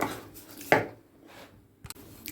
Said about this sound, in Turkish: Şimdi bir ortasından kesiyorum